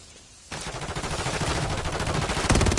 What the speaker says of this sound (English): I got shot again